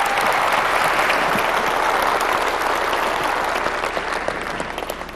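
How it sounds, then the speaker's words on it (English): An audience at Sony's E3 2005 press conference claps steadily in a dense round of applause that slowly fades toward the end. "Round of applause"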